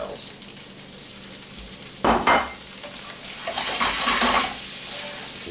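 Morel mushrooms sizzle steadily in melted butter in a hot pan, a continuous close hiss that swells louder toward the end, with a couple of brief stirring scrapes in the middle.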